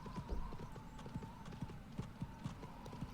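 Horse hooves clip-clopping in the video game Go Vacation, a quick regular galloping rhythm of soft thuds over a steady background game tone.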